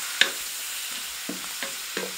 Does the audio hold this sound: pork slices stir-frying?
yes